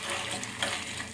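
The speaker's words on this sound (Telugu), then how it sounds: "చింతకాయ చట్నీకి ఎండుమిర్చి వేయించుతున్నాను." Dried red chillies, about ten, fry in oil with coriander seeds and curry leaves for a tamarind chutney, giving a steady close sizzle with a few soft stirring scrapes and no voices.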